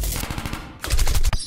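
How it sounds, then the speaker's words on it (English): Rapid automatic gunfire in the Henry Stickmin Collection prison escape game, a loud burst of rattling shots that pauses briefly and then resumes even heavier, with no talk. "try dodging the bullets"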